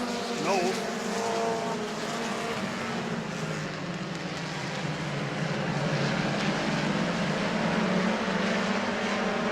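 Race cars circle a short weekly track at Auburndale, a loud continuous engine drone with rising and falling passes, under a public-address announcer calling the running order.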